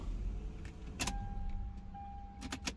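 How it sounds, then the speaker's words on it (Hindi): A Lexus GS300 is switched off with the key: faint metallic key jangles and clicks over a low engine hum, with a brief electrical whine in the middle. "अभी हम गाड़ी को करते हैं ऑफ,"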